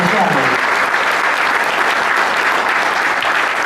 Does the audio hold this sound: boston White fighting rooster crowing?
no